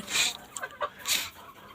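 Hens in a backyard coop, nine birds kept as pets, give a few short clucks and squawks, close by and moderately loud, with quiet gaps between the calls.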